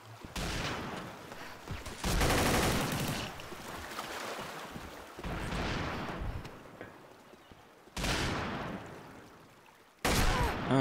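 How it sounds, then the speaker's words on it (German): Gunfire in a video game round comes as loud, dense bursts of rapid shots, several sustained volleys separated by short lulls. "Schüsse."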